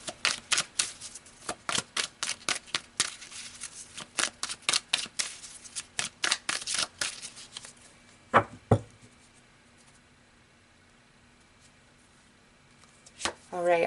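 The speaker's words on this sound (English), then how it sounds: "So let's pull a couple more cards" Tarot cards are shuffled in a fast riffle of sharp card snaps lasting several seconds. A couple of firmer slaps follow as cards are drawn, then a quiet gap. The sound is close and loud, with no talk over it.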